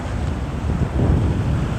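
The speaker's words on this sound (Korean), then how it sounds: "바다도 이쁘고 파도 소리도 좋고" Sea waves wash steadily against the shore at Geojin harbour in Goseong, Gangwon Province, a broad continuous rush mixed with wind buffeting the microphone, with no voices.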